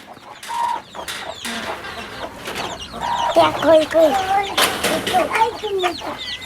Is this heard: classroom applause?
no